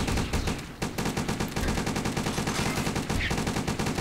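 Towers in a tower defense video game firing rapidly, a dense, relentless stream of quick gunshots close and loud, with only a brief lull near the start.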